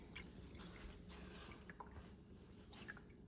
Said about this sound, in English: not going to keep this salty water, but I am going to squeeze as much as I can